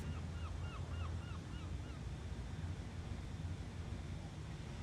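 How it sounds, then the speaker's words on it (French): Ocean waves wash in a continuous soft rush, faint and steady, with a few distant bird calls early on. "tout en suivant le bruit des vagues"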